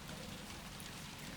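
Steady rain falls outside at night, a dense even hiss of drops on surfaces with no voices and no breaks.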